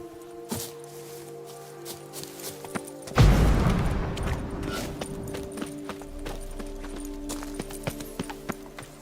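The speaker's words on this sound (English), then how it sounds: "Whoa there, Roach." A horse in The Witcher 3 clip-clops along in a game soundscape, with irregular hoof taps, a louder burst of mixed game noise partway through, then further scattered hoof steps at moderate volume.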